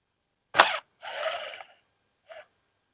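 A T25 screw being backed out of a Poulan Pro 50cc chainsaw during carburetor replacement, heard as a sharp mechanical click followed by a longer rasping turn and one short final click, close and quiet, with no talking.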